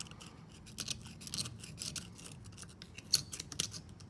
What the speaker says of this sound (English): scrape it up some here so y'all can maybe see